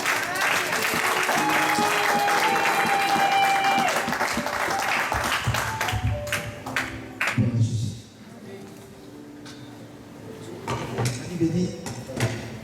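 Church congregation applauding in praise, a loud, dense burst of clapping mixed with voices that thins out after several seconds into scattered claps and speech.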